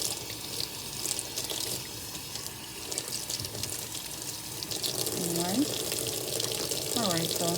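Salmon being rinsed under a running kitchen tap: a steady close hiss and splash of water into a sink, with brief handling noises toward the end.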